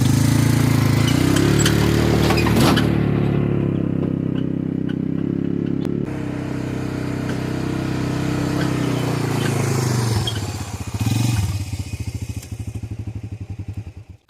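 A vehicle strains up a hill towing a trailer loaded with rock, its engine a loud steady drone that eases and shifts, ending in a clattering, rattling run before fading.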